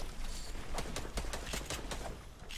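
Rapid bursts of automatic gunfire crackle through a scrim match of an online shooter game, a dense rattling run of shots lasting a couple of seconds at modest volume.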